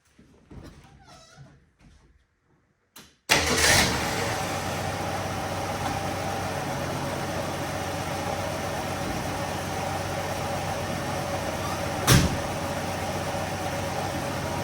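A 1968 Ford Mustang survivor with an original 200 six-cylinder engine and carburetor cranks briefly after some quiet clatter, catches, and settles into a loud, steady running drone with one sharp knock partway through.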